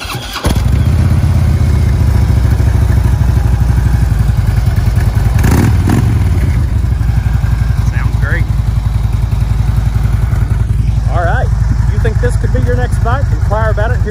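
A 2014 Harley-Davidson Street Glide Special idles loudly and steadily up close, a deep continuous rumble with a brief blip partway through; someone talks over it.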